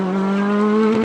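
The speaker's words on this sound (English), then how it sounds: "7th fastest and launching off the line is Gary Kiernan" A Rally2 rally car at a winter series stage rally launches off the start line, its engine revving hard at a sustained high pitch, loud and close throughout with no talk.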